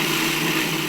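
A blender pulses a green apple mint chutney in a steady, loud whir that holds for about a second with no break and no voices.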